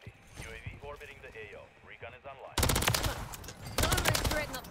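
Video game gunfire from a Rival 9 fitted with a recoil attachment: someone talks over game sounds, then loud rapid automatic bursts, the second burst after a short pause.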